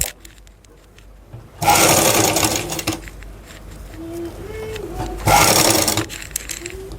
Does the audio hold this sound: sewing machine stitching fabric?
yes